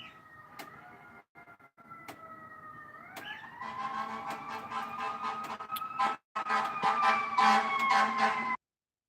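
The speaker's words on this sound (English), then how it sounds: "Sirens." Emergency sirens wail outside, rising and sustained with a steady pulsing pattern, fairly loud and alone for several seconds before cutting off abruptly.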